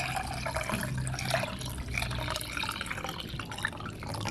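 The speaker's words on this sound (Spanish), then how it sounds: "deja el celular ahí y empieza a colocar el agua" Water poured into a container holding a coin, a steady splashing, trickling stream that runs without pause at close range.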